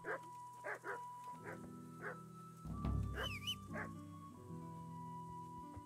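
A dog in Kingdom Come: Deliverance gives a run of short yippy barks and whimpers at an even pace over game music, a few of them moderately close, with a brief rumbling game sound partway through.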